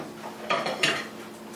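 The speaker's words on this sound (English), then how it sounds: "Make sure I get it stirred in real nice." A spoon stirring thick chili in a pot, giving two or three quick metallic scrapes and clinks up close.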